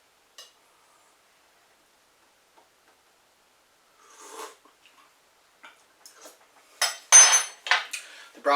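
Homegrown soup ladled into a bowl in a quiet kitchen, with sparse faint clinks followed by louder scraping and clattering of the ladle against a pot and bowl near the end.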